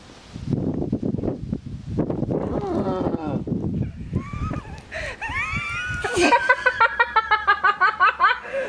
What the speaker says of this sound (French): On dirait une vache.